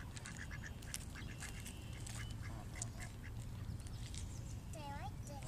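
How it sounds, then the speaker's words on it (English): Several ducks quack loudly near a crowd, with people chatting throughout and a brief bird call near the end. "the little bitty duck there. Loud, loud thing too. They're very loud."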